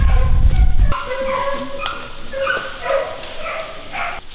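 A hunting dog barking and yipping in the wild, a few loud barks at the start, then fainter yelps and whimpers further off.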